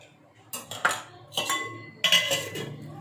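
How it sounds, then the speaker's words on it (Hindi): A utensil clinks and scrapes against a pan of ghee while tempering guar beans, in a few sharp bursts, close by, with quiet gaps between them. "इसके अंदर मैंने घी डाल दिया है, अब मैं गवार को तड़का लगा रही हूँ।"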